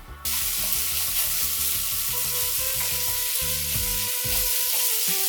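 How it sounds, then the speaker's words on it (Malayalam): Two sliced onions and three chopped green chillies sautéing with salt in a pan, a loud, dense, continuous sizzle close up over a steady low hum, with no speech. "ഒരു രണ്ട് സബോള ഇതുപോലെ അരിഞ്ഞ് ചേർത്ത് കൊടുക്കുക കൂടെ മൂന്ന് പച്ചമുളക് ഇതുപോലെ ചെറുതായി അരിഞ്ഞ് ചേർത്ത് കൊടുക്കുക അര ടീസ്പൂൺ ഉപ്പ് കൂടി ചേർത്ത് നല്ലപോലെ വഴറ്റിയെടുക്കണം"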